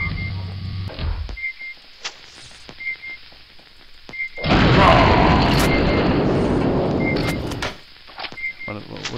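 Rocket launcher fire in the video game Aliens versus Predator Gold: a loud roaring blast swells midway and holds for about three seconds, set among short electronic beeps and sharp game clicks.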